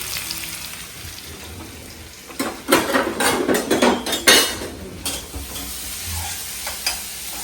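Onions and curry leaves stirred in a sizzling pan with asafoetida powder, a spoon scraping and clinking against the metal in bursts over a steady frying hiss.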